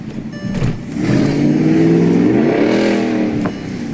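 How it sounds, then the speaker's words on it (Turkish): A Volkswagen Touareg V8 engine revs loudly nearby in an auto repair district, its deep roar swelling and rising in pitch before easing off, with no one talking. "V8 Touareg. V8 Touareg. Cherokee gibi sesi var lan arabanın."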